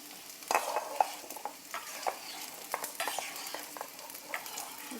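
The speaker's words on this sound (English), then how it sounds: "While onion is getting sauteed, we have chopped up tomatoes and we're going to add this." Onions sautéing in a pan, soft continuous sizzle broken by frequent close scrapes and clinks of a utensil stirring, fairly quiet with no voices.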